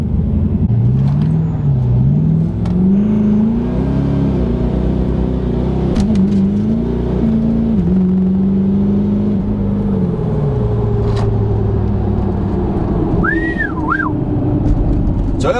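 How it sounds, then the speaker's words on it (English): Tuned 700+ horsepower Ford F250 pickup with a 6.7 Powerstroke diesel launching hard, a loud continuous engine drone climbing in pitch with uneven shift dips, turbo whistle rising near the end. "All right, we're gonna try to launch this thing."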